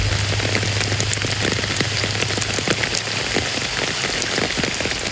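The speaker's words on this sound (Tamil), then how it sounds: "டெல்டா மாவட்டங்களில் பரவலாக மழை பெய்துள்ளது." Steady rain patters densely on surfaces in the Delta districts of Tamil Nadu, a continuous loud wash with a low engine-like hum underneath and no talking.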